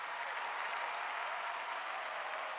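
A crowd at an AFLW football match during Indigenous Round roars and applauds in a continuous, dense wash of cheering and clapping that holds steady throughout, with no talk standing out above it.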